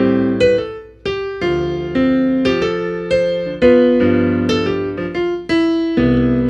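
Solo piano plays a slow passage of struck chords and single notes, clear and close, with light sustain pedal letting some tones ring into the next before fading.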